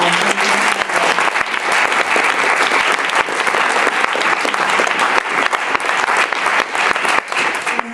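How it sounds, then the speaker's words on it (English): Audience applause follows a call for another round for two 15-year-old Girl Up advocates, Adora and Hannah, at a question session. Dense, sustained clapping from a full room runs steadily for the whole stretch, loud and close, with no talk over it. "let's give them another round of applause"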